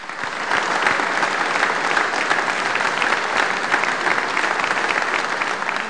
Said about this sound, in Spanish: Creo que un aplauso para Valentín Paniagua Curazao es necesario.